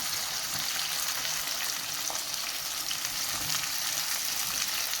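Chopped onions frying in hot oil in a pan while a chicken sukka is cooked, a steady, dense sizzle that stays even and close throughout without any talking.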